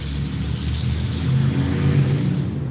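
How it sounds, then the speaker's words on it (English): A truck with its muffler torn off, engine rumbling loud and close, swelling slightly as it revs, a continuous throaty drone with no talk. "They tore the muffler off of it."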